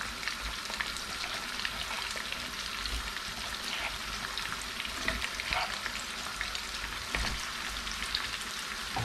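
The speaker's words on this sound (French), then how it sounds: "Là, je vais venir rajouter mes aubergines." Eggplants sizzle and crackle steadily as they fry in a hot pan, with occasional scraping stirs, close and constant throughout.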